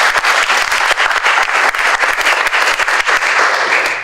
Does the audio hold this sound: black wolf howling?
no